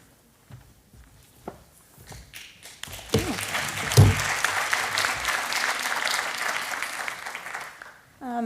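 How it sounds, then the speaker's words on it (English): Audience applause at an AI conference talk welcomes the speaker, building from scattered early claps into a loud, sustained crowd ovation that fills most of the stretch before cutting off near the end. "I love when people clap and you haven't even done anything yet"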